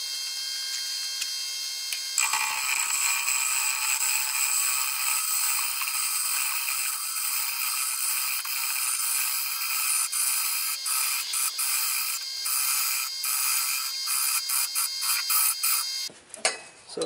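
A wood lathe spins at 1,000 RPM while a 3/4 inch gouge rounds down a bottle stopper blank on a drill chuck mandrel, a steady high whirring hiss close by that cuts off abruptly near the end.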